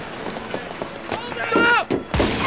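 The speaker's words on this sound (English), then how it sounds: "They actually shot a guy." A single sharp gunshot from a police officer's weapon cracks out near and loud right after raised, shouting voices, ending an arrest attempt on an unarmed man.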